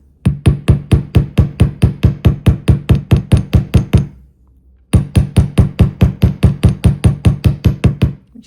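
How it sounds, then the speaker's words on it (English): Wire ends of beaded hoop earrings are struck with a hammer in a fast, steady series of sharp, loud metallic blows, a run of about twenty, a brief pause, then another equally regular burst. "So you hammer."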